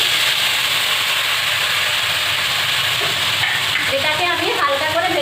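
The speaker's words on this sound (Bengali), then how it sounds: "তেলটা আমার গরম হয়ে গিয়েছে। এবার আমি এতে কেটে রাখা পনিরগুলো দিয়ে দেব।" Cubed paneer, about 500 grams, sizzles and spits steadily in hot oil in a kadai, a loud continuous frying hiss with a voice coming in near the end.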